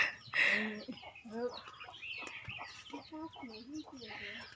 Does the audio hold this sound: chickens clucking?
yes